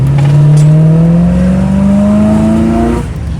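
A 1975 Chevrolet Monza's 350 V8 revs steadily upward at half throttle, its rising intake roar loud and close, then eases off near the end.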